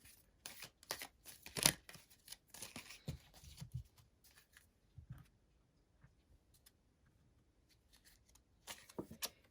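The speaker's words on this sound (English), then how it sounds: "let's draw some divine guidance cards for you" Oracle cards for a divine guidance reading being shuffled by hand, giving a string of quick soft riffling and tapping bursts, busiest near the start and end with quieter gaps in the middle and no talking.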